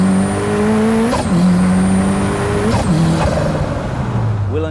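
An Ariel Atom 3S with a 2.4-liter Honda VTEC engine and manual gearbox revs hard and close, climbing through the gears with quick upshifts that drop the pitch before it rises again.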